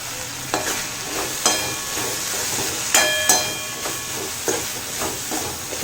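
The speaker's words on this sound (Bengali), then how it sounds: "ছোলা, মশলা এবং টমেটো সব ভালো করে ভাজা হয়ে গেছে।" Boiled black chickpeas fry with spices and tomato in a pan, a steady soft sizzle and hiss running throughout, broken by periodic sharp scrapes and clacks of a spatula stirring.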